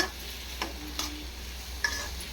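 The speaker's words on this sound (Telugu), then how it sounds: "నూనెలోనే ఆయిల్లోనే మగ్గిస్తాను అంట మొత్తం కర్రీని" Onion curry cooks in oil in a pan with a soft, low sizzle, as a spoon stirs and scrapes against the pan a few times, quiet and close.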